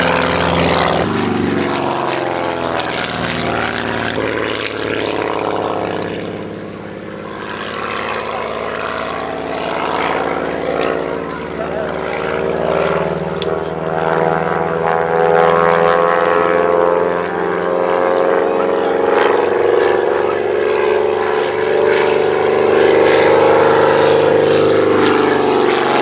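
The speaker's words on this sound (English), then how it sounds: "rasping away into the air, in the Oscar Mark 11, Oscar AOP 11" An Auster AOP 11 propeller plane flies at an airshow at East Kirkby, its engine giving a loud, continuous rasping drone that holds steady for the whole stretch.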